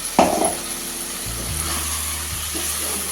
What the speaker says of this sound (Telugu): గ్రీన్ పేస్ట్ మొత్తం ఇందులోకి వేసుకొని మిక్స్ చేసుకోవాలి